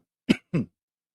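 Two quick, close throat-clearing coughs in a row, then silence.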